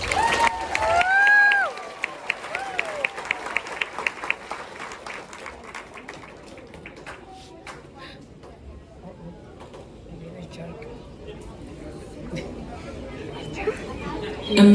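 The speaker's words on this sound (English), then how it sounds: "Let's hit them off with a big round of applause" Audience at a Weeki Wachee mermaid show of The Little Mermaid bursts into applause and cheers, a dense round of clapping that tapers into scattered claps and murmuring crowd chatter.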